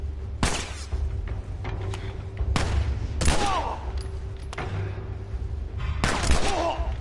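Gunfire in The Last of Us Remastered: several loud broadband shots spread over about seven seconds, each a sharp crack with a ringing decay, set against a steady low background hum.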